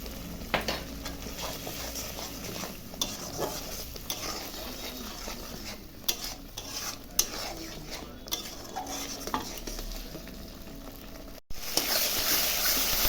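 Masala spice paste sautéing in a pan, with a soft continuous sizzle under repeated scraping and clinking of a spoon against the metal, steady stirring strokes close up, a brief pause near the end before the frying resumes louder.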